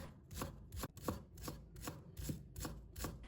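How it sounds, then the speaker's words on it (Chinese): A knife chops scallion whites into small pieces on a board in quick, even strokes, about two or three a second. The chopping is crisp and close but fairly soft, with no voices. "先把葱白切成小粒"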